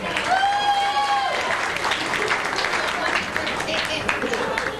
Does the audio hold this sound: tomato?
no